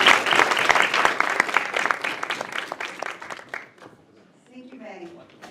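An indoor audience at a pitch competition event breaks into loud, dense applause that gradually thins and dies out, followed by a speaking voice.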